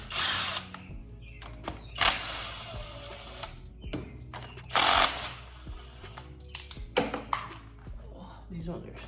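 An impact wrench works on a 2004 Honda Rancher 400 ATV, firing in several short loud bursts between pauses, with someone talking in the gaps.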